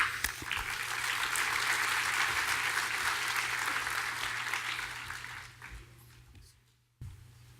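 Sustained applause from a lecture audience welcoming Prof. Demetrios Christodoulides, steady and full for about six seconds before tapering off, with a brief burst at the end.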